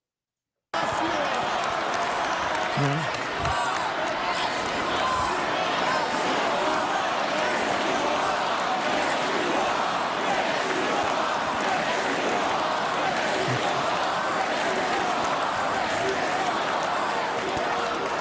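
A recorded rally crowd shouting during a Trump speech, a dense, continuous roar of many voices with chants and claps that stays loud and unbroken from start to finish.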